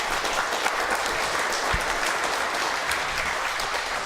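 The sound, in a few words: studio audience applause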